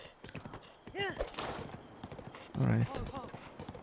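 Horse hooves clip-clopping in Breath of the Wild, a steady rhythmic gait running through the clip beneath a player talking over the game.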